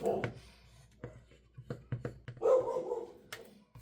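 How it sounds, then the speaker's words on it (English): A dog barks in short bursts at someone at the door, a few sharp barks and a brief whimper at moderate distance in an otherwise quiet bookbinding workspace. "The dog sees someone at the door."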